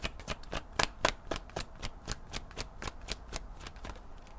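Tarot cards shuffled by hand in a rapid run of crisp riffling flicks, close and fairly soft, with no talking.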